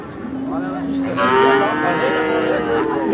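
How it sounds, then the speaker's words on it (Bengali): Cattle moo loudly and close by at a muddy village livestock market in Bangladesh where calves are also kept, with one long drawn-out low call over faint background murmur. "আবার কিছু বাছুর গরু আছে।"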